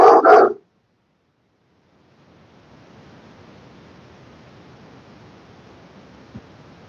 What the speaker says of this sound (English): Dog doesn't sound happy.